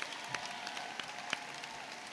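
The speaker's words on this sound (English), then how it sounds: "There's our round of applause." At the opening ceremony of a walk to end Alzheimer's, a crowd gives a soft, distant round of applause, a steady wash of clapping with a few sharper claps standing out.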